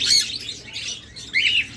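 Cockatiels kept for sale chirp close by, with a few high, sharp tweets and whistled calls in quick succession over a faint background murmur.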